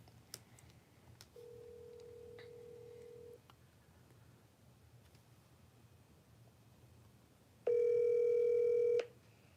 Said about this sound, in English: Hey Siri, call Jose.